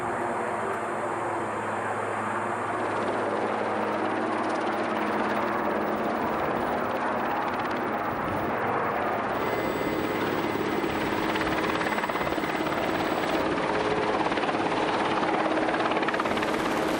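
A heavy-lift salvage helicopter able to carry 2.5 tons, its rotor and engine drone steady and loud throughout, a continuous thrumming roar with no other sounds over it.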